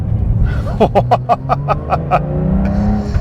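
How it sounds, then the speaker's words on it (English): A Porsche 911 T engine revs in a quick series of about eight sharp throttle blips, each a bright burst over a steady low engine drone, close and loud. "Love that throttle blip, even though it's not me."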